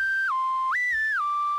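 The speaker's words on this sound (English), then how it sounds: "so you can pitch bend some notes, and you can set the how long it's going to take, like a slide whistle" A synthesized flute sample in Ableton plays a pure whistle-like tone that glides down, jumps back up and slides down again with smooth pitch bends, heard alone and clear.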